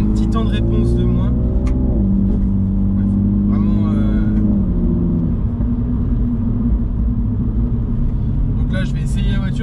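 Mini John Cooper Works car accelerating, heard from inside the cabin: a loud, continuous engine drone climbs in pitch over the first seconds, then holds a steady, rumbling tone.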